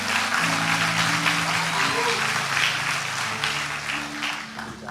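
A church congregation applauds steadily, a dense wash of clapping that holds for the whole stretch, with tonal voices or music running underneath and a slight fade toward the end.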